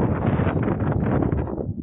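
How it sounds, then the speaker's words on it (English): Gusty wind buffets a microphone outdoors during an Autel Evo Lite Plus drone flight, a loud, continuous rumbling roar that holds steady and then eases off at the end. "Now the gusts are hitting us and knocking us down here and there"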